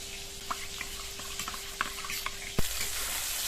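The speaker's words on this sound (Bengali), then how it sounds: "এই মশলাটা খুব ভালো করে ভেজে নেব।" A spice paste with tomato and green chilli frying in a pan, a continuous close sizzle with small pops and one sharper utensil knock near the end.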